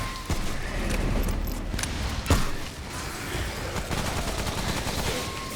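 Gunfire from the video game Remnant from the Ashes crackles in dense bursts over a busy, noisy game soundscape, with one sharp, louder shot standing out midway.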